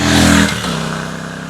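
A Royal Enfield Classic 650 twin-cylinder engine revs up briefly and then settles, with a throaty, bass-heavy note, close and loud.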